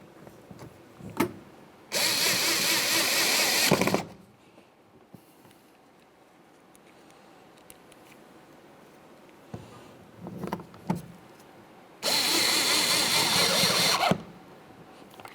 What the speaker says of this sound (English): continue on with our 2 Phillips head screws